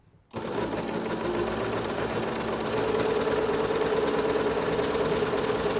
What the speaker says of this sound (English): Once we get all set up, we are going to push the pedal and sew. And the machine's going to take care of everything for us.